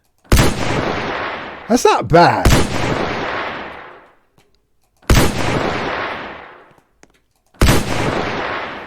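Three loud, booming blasts from an arm cannon in Roblox Studio, each decaying slowly, with a short spoken remark between the first and second shots.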